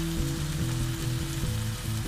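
Tuna frying in hot oil in a pan, a steady close sizzle and crackle continuing without pause under a low hum.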